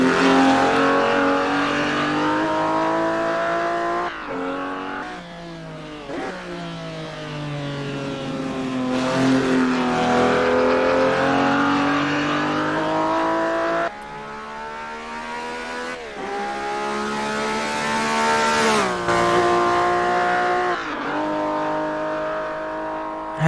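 A V12 race car engine in the racing game Assetto Corsa revs hard and continuously, its pitch swooping up and down through several throttle blips and gear changes, loud and close with no voices.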